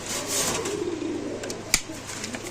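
Pigeons at a Bangladeshi bird market coo softly in their cages, a low continuous warble with a faint background hum and one brief sharp knock near the end.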